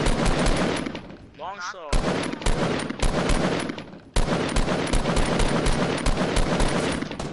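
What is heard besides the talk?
gunfire in a video game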